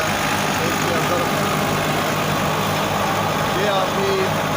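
Tractor-driven wheat threshing machine running outdoors, a loud, unbroken engine and machinery roar filling the whole stretch, with someone speaking over it.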